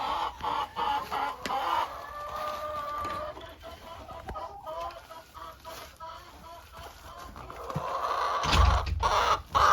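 Chickens clucking and murmuring close by, a busy mix of soft clucks and calls with some clattering near the end.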